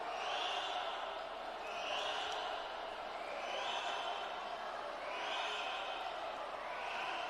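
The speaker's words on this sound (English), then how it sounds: "The entire Scottsdale team is behind her lane, cheering her on." Swim meet crowd and the Scottsdale team cheering a racer from behind her lane at the NCSA finals, a steady wash of distant voices with repeated whistle-like rising shouts swelling and fading over several seconds.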